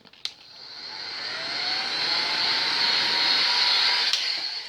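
A heat gun blows a steady, loud hiss onto vinyl wrap to shrink it over a curved surface like a mouse, helmet or side mirror, and the whoosh builds up and holds alone.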